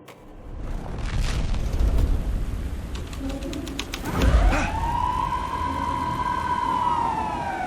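A police car siren wails in the Alan Wake 2 video game, rising into a sustained sweeping tone after a dull boom. Birds coo faintly in the background and no one speaks.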